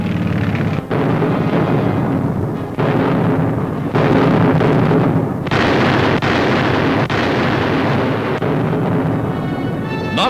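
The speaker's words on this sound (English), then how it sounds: "the British were attacking the entire Mareth line with tanks and big guns" Big guns firing in a wartime newsreel of the British attack with tanks on the Mareth line in Tunisia: a continuous, loud rumble of heavy blasts and bursts at a steady barrage density, filling the whole stretch without talk.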